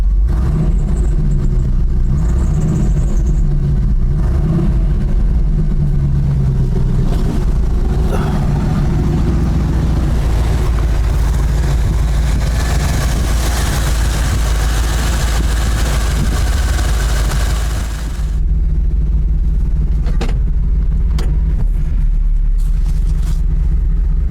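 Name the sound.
1989 GMC Sierra 3500 engine idling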